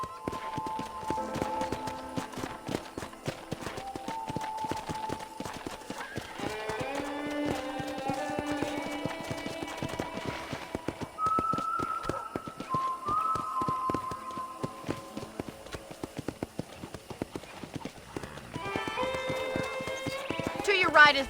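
Horse hooves clip-clop steadily in Red Dead Redemption, a walking rhythm of taps under game music and spoken dialogue, with a brief whinny partway through.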